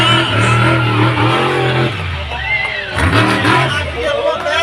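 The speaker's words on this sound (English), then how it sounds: "now who wants to see this monster truck jump over some cars?" Outback Thunda monster truck engine revving loudly at the Mackay Show, the deep growl rising and falling in surges beneath a cheering crowd and an announcer's voice.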